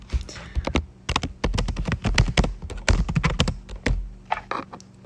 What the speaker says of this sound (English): Let me type it in chat.